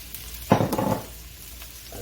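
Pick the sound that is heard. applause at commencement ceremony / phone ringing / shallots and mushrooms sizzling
shallots and mushrooms sizzling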